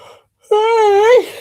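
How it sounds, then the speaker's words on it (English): A woman's long, drawn-out yawn, loud and close, with a voiced moaning tone that rises slightly and falls off at the end, following a brief breath after a short pause. "I'll start yawning, and then I have no reason why it does it."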